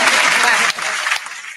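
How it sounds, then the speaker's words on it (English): Brief burst of clapping during a panel conversation about womanhood, dense and close for a moment, then thinning out under faint voices before a final sharp clap. "Yes, I'm gonna clap for that."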